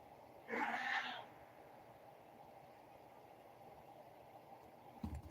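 A single drawn-out cat meow, clear and close, followed by several seconds of quiet room tone.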